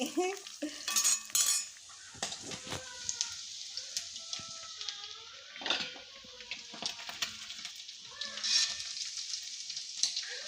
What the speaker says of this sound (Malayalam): നമ്മൾ ചിക്കനൊക്കെ വറുത്ത് കോരെടുക്കാൻ കേട്ടാ